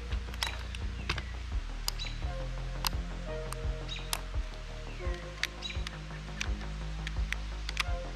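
Sharp, close clicks from the plastic safety selector on a CYMA Platinum SMG9 airsoft gun being flicked back and forth, a steady series of crisp snaps spread evenly across the clip over a low background hum, with no talking.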